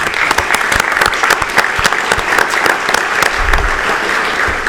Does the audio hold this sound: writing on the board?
no